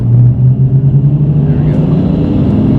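A turbocharged car engine at full throttle after flooring it from about 2,000 RPM, a loud, close, steady droning rumble with a low tone that rises slightly as it pulls.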